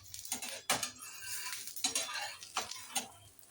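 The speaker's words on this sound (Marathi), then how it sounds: "वरच्या बाजूने थोडंसं तेल घालते मी, अगदी थोडंसं, आणि आपण उलटून घेऊया." Methi thalipeeth flatbread in a lightly oiled pan, with a soft sizzle under several sharp metallic scrapes and clatters as a spatula loosens and turns it, nearby and without talk.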